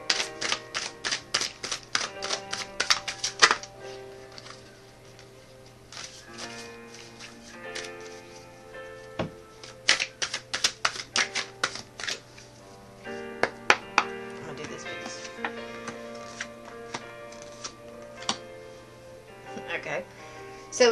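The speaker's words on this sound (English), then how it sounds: "Let me shuffle again." Tarot cards are shuffled in rapid bursts of crisp riffling clicks and taps, repeating in clusters across the clip over a low steady hum, close and fairly loud.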